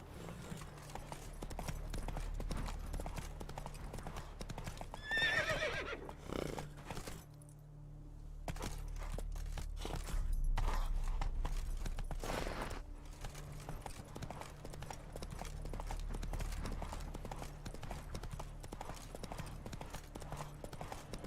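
Roach the horse in The Witcher 3 trots with a steady clip-clop of hooves close by, pauses briefly, then carries on, with a short neigh early on.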